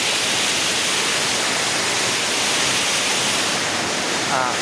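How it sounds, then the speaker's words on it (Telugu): A waterfall at Maredumilli in the Rampachodavaram area pours down from above, a steady, loud, broadband rush of water that fills the whole clip without a break. "ఇగో ఇలా వాటర్ వస్తుంది"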